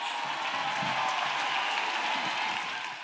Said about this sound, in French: Acclamation. Clap offering.